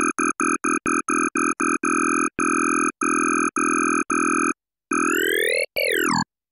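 A grain oscillator synth in Ableton plays a bright, buzzy tone in short repeated stepped notes, then longer held notes, ending with a sweeping pitch glide; loud and close, no talking.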